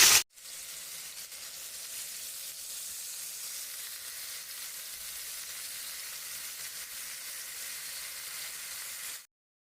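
Fish pieces sear in a pan, producing a continuous even sizzle and hiss that holds steady for about nine seconds before cutting off abruptly, with no talking.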